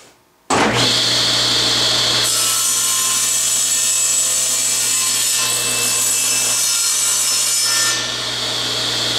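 Saw blade cutting through wood held by a miter gauge in a woodworking shop, a loud steady whine that holds for about nine seconds after a sharp start, its pitch brightening partway through.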